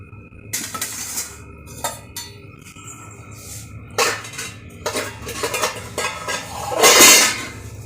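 A metal cooking pot is handled nearby while making egg gravy, with irregular clanks, knocks and scrapes, ending in a louder metallic scrape; nobody speaks.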